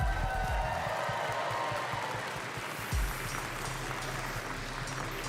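Steady applause from a crowd at the Pokémon World Championships fills the space, a dense wash of clapping that carries on evenly without a break.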